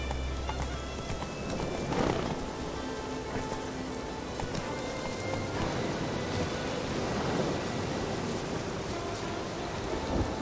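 Roach, a horse in The Witcher 3, gallops with rhythmic hoofbeats under steady heavy rain and low rumbling thunder, the whole scene loud and dense.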